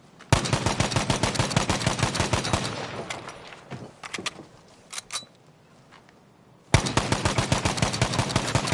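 Automatic fire from a 30-round magazine in the video game Battlefield V: a long, loud, steady burst that tapers off, then scattered clicks and shots, then another sharp, dense burst. No one speaks.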